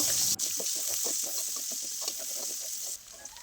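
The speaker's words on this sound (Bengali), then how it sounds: "দিয়ে দিচ্ছি দুইটা পেঁয়াজ কুচি আর পেঁয়াজটাকে একটু ভালো করে ভাজবো" Chopped onions fry in a pan that has just been used for frying fish, a steady, close sizzle running throughout with faint stirring scrapes on top.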